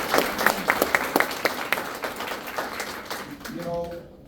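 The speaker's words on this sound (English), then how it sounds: "So let's give all three of them a round of applause" An audience claps at a school board campaign event, with crisp claps that are strongest at first and then fade, while a voice speaks over the tail end.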